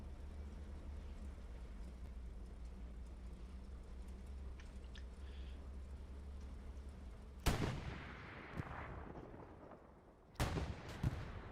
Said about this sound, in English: we got shots fired here down by the church